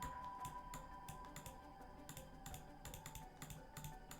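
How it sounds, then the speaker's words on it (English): Rapid clicking and key tapping on a computer while playing Paranormasight, a steady patter of light, close, crisp clicks with no talking. "I'm just clicking."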